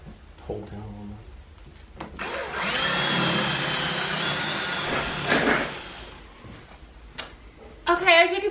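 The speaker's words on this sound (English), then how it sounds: "we're going to go ahead and drill all the holes for the lights" Power drill boring holes through pallet wood for a Christmas tree: a steady, loud whine of several seconds in the middle, with shorter bursts around it and brief talk before and after.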